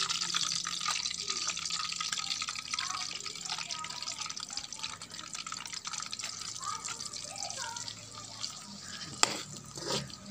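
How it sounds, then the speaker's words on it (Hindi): Chopped onion goes into hot ghee for an egg and onion fry, producing a steady close sizzling hiss that fades slightly toward the end, with a sharp clink near the finish. "अब घी गर्म हो चुका है। अब हम इसमें डालेंगे प्याज"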